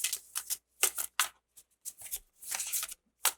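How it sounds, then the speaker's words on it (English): Tarot cards being shuffled by hand in a run of quick papery riffles and flutters, separated by short pauses, close and fairly soft, with no talk. "Alright, I think I'm done shuffling."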